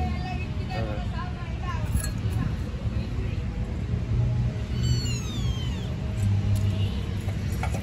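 A kitten meows in short, high calls on a cold night outdoors, heard under nearby talking voices, with some light clinking in the background.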